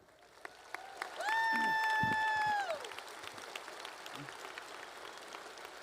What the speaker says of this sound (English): How about a nice round of applause for our dancers and our choir?